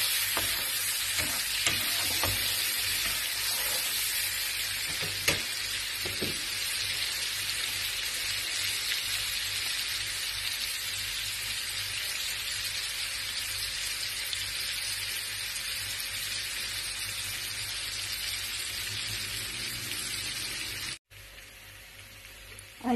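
Butter and garlic sizzle steadily in a hot pan for a shrimp-with-garlic dish, a continuous close frying hiss with a few stirring clicks and no talk.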